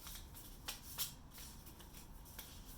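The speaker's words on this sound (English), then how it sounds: "You're going to shuffle those up" Paper number cards shuffled by hand at home: a soft, faint run of quick riffling and flicking noises, with a few sharper snaps, and no talking.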